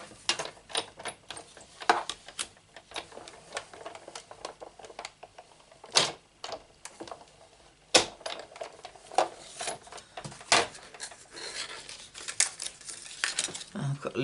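A paper tag is cut out with a small tag die, heard as close clicks, taps and rustles of paper and tool handling, with a few louder sharp clacks.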